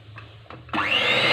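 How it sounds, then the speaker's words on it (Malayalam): An electric mixer beats chocolate cake batter that has melted chocolate and milk in it. A few soft knocks come first, then the motor kicks in loud and close, a steady whirring drone that climbs in pitch as it spins up. "ഒന്നുകൂടെ ഒന്ന് ചെറുതായിട്ടൊന്ന് മിക്സ് ചെയ്തെടുക്കാം."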